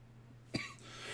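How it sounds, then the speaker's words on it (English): A single short cough from a man with a lingering cough of a couple of weeks, close to the mic and fairly loud over a steady low hum of background music. "this cough has been nagging me for a couple weeks now"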